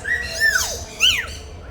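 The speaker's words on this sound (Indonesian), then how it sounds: "Tuh bunyi burungnya." A myna bird at a zoo gives two loud, whistling squawks with sliding, swooping pitch, close and clear against a quiet background.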